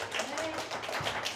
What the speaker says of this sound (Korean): 박수 한번 쳐줘야 돼